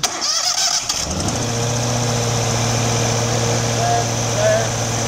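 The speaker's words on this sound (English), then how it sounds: "So we're gonna go ahead and start it." An Amtex Inferno Stack 3047 engine cranks briefly and catches, then settles into a loud, steady running drone with a strong low hum, heard up close without talk.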